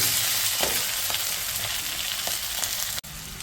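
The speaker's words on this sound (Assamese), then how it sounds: "এনেকৈ বিলাহীখিনি সিজালৈকে ভাজোঁ" Tomatoes sizzle steadily in a hot pan while being fried for a mutton curry, a close, even frying hiss with a few soft stirring knocks and no voices.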